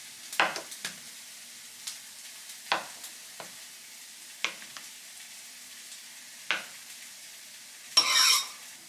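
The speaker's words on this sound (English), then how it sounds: "So we're just gonna add the tofu into a frying pan with a bit of oil." Soft sizzling of tofu frying in oil in a pan, with occasional sharp scrapes and clinks of a utensil stirring, ending in a brief louder hiss.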